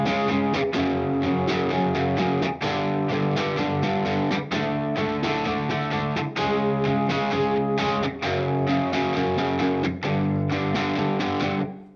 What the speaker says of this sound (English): So if I play the chorus with the power chords,